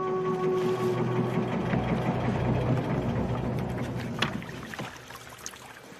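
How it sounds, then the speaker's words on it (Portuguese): Motor of a small Tunisian fishing boat running near, a steady buzzing drone with a tonal hum that fades slightly toward the end, heard alone without talk. "Quando o vento não sopra suficientemente forte, liga-se o motor para ir recolher as redes."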